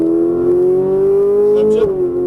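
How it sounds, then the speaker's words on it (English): A Ferrari 458 Italia engine revs under acceleration, a loud sustained tonal whine that climbs steadily in pitch, then dips briefly near the end before holding. A voice can be heard alongside it. "Now go and accelerate all the way down to the left side."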